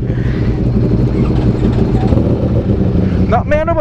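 Ducati V4 S fitted with a Zard exhaust idling close by with a steady, loud, throbbing rumble, a voice speaking over it briefly near the end.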